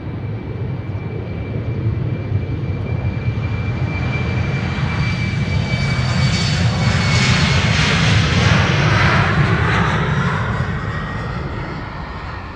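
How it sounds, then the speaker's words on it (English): A KLM Embraer 190 jet departing Amsterdam Schiphol, a loud, sustained engine roar with a rising whine that swells to a peak and slowly fades as it passes close by. "First up, Embraer 190 to Gdansk, KLM flight 1303."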